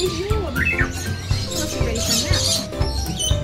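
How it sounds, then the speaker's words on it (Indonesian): Several birds chirp and whistle in varied calls at Taronga Zoo, over a busy background of chatter and rustling, close and fairly loud. "Suaranya bervariasi burung-burung."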